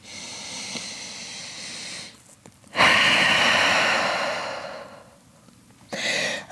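Slow, deep breaths during a yoga flow held in downward-facing dog, a soft airy exhale fading out, then a long strong breath swelling and tapering off, and another breath starting near the end.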